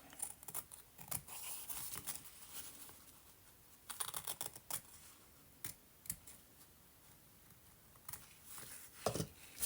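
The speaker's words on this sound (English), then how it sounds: "I'm cutting a few millimeters" Scissors cutting paper while making a handmade mini journal, a few millimeters trimmed at a time: quiet, close snips in short irregular bursts with gaps between.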